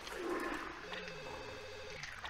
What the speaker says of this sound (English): Wait, is that the phone?